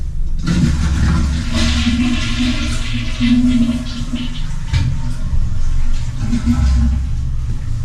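An apartment bathroom toilet flushes with a loud, close rush of water and a low rumble that last several seconds, then carry on as a softer churning refill.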